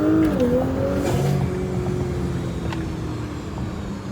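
Tuned Audi S4 on a launch-control start, the engine note falling and then holding a strained, steady drone as the car pulls away, loud and close, with a brief whoosh of turbo air along the way.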